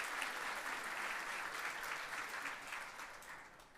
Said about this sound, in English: let's give a round of applause to these young leaders and their families